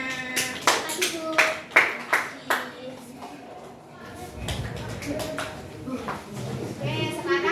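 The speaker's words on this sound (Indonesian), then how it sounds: "tepuk tangan untuk kelompok A-nya" Students in a classroom clap for a presenting group, with about six sharp, distinct claps at the start, then softer scattered clapping and room noise that trails off.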